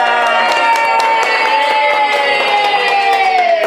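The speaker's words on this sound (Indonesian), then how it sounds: "Boleh tepuk tangannya" An audience at a morning housing-investment event for the Green Orchid residence bursts into sustained applause, dense and loud throughout, with a bright tonal hum running underneath.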